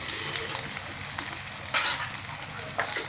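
Egg and quartered bread pieces fry in a pan over raised gas heat, a steady soft sizzle with occasional scraping and clinking stir sounds near the mic, no talking.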